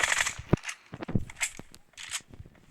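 Gunfire in a shooter video game pops out as a series of sharp, separated shots in an uneven rhythm. It sounds moderately close and fairly quiet, with faint game noise between the bursts.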